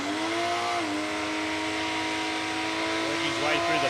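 A manually shifted Ford Falcon drag car works through its 4-speed gearbox at Palmyra Raceway, the engine note dipping at a shift and carrying on from a moderate distance.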